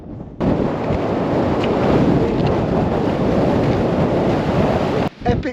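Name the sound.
strong wind on a mountain ridge near Red Crater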